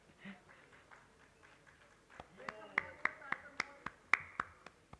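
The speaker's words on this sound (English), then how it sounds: "whistles, claps, everything happening together" Audience at an entrepreneurship conference clapping, starting as scattered faint claps and building into sharper, louder individual claps with cheering and some voices mixed in.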